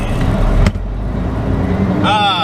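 A semi truck engine idles at a flatbed owner-operator's truck stop, a steady low rumble close by with a brief thump early on and a higher whine near the end.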